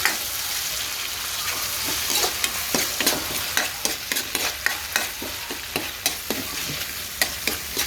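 Loud, steady sizzling from a frying pan, with repeated scraping and clattering strokes as vegetables in oyster sauce are stirred, irregular at first then more rhythmic.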